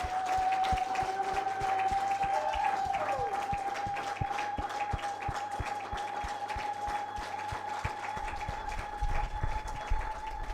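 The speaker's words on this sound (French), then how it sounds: "célébrer ce plateau spécial encore une fois de plus pour honorer la mémoire du révérend Dr San Myang Moon avec les applaudissements nourris" Steady applause on a special television studio set honoring a religious leader, a continuous dense clapping wash heard alongside a sustained electronic tone and a rhythmic low thumping pulse.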